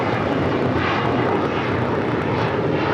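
A Delta Air Lines Boeing 737-900ER departs from LAX with a loud, continuous jet engine roar that holds steady and close throughout, with no voices over it.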